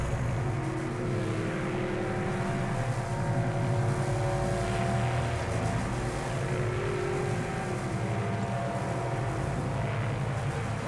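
Dropship plane flying overhead in the battle royale game Apex Legends: a steady, loud engine roar with a propeller-like drone, continuous throughout without letting up.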